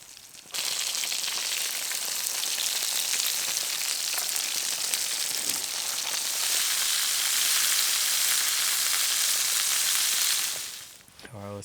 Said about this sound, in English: I'm just going to chuck it in the pan and try and heat it up that way